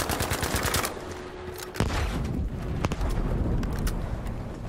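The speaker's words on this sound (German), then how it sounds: "Das ist ein Repetiergewehr." Bolt-action rifle shots ring out in a Battlefield V singleplayer battle: a few sharp, loud cracks spaced about a second apart over rapid mechanical clatter and a continuous rumble of background combat noise.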